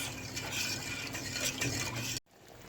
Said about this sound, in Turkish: Karıştırıyoruz ve şerbetimizi kaynamaya alıyoruz